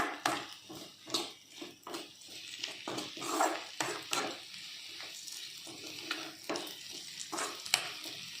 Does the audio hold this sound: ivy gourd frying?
yes